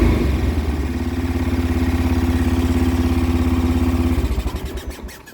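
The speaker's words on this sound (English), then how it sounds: "It's making that squeaking sound on the clutch side, I believe." A 2010 Kazuma Jaguar ATV idles steadily in neutral, its low, even engine note running close and loud for about four seconds before fading off, with a faint squeak from the overheated clutch side.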